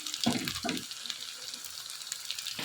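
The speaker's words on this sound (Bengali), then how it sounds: "পটল ভাজি বসিয়ে দিচ্ছি, পটল ভাজি করব" Pointed gourd (potol bhaji) frying in a pan gives a steady, moderately loud sizzle throughout, with a couple of soft low knocks from the pan near the start.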